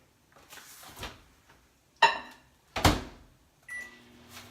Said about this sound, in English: we're going to put our stick of butter in the microwave